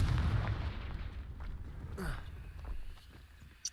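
A Confringo fire spell from Hogwarts Legacy bursts with a heavy, booming blast that decays over a few seconds into rumbling debris and scattered crackles, followed by a brief thump at the end.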